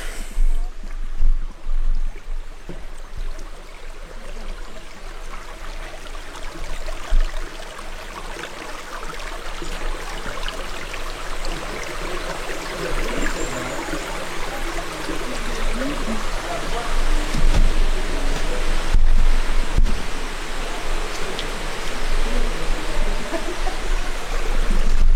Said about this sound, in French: Et une petite rivière magnifique.